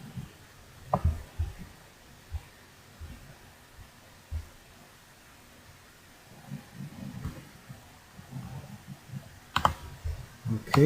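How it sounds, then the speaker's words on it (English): Typing on a computer keyboard: quiet, sparse clicks and short bursts of keystrokes spread over eleven seconds, with a few louder taps near the end and low room noise between. "So I'm just going to type in business."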